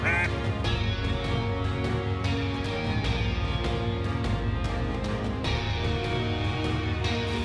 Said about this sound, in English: And we'll get a little more practice with these amazing game calls.